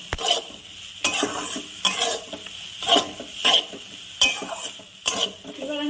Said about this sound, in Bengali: সর্ষে দিয়ে ভালো করে মিশিয়ে দিয়ে আমি বেশিক্ষণ কষাবো না অল্প নাড়াচাড়া করে জল দিয়ে দেবো